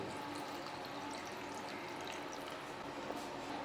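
Chilled water from a freezer pours into a blender jar as a continuous, even splashing stream, faint and close with no pauses.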